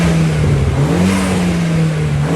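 A warm 1.8 20v turbo engine in a 1983 Mk1 Golf GTI revs hard and steadily up close, its throaty drone rising and falling slightly in pitch for a couple of seconds.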